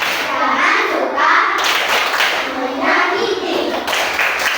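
Children clap in a steady chant rhythm at a school classroom activity about anti-bullying, with young voices chanting along throughout, fairly close and continuous.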